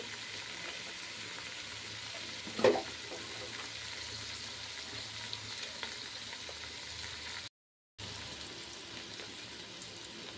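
Mixed vegetables frying in oil with salt and turmeric, a steady soft sizzle throughout broken by one sharp stirring clatter near the start, with a brief dropout later.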